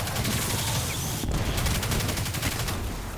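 Rapid, dense gunfire rattles nonstop in Destiny as shots tear through enemy shields, a loud continuous fusillade with a steady rhythmic stutter throughout.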